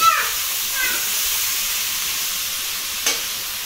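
Onions frying in hot oil give a bright, steady sizzling hiss close by, with a sharper burst at the start and another brief flare near the end.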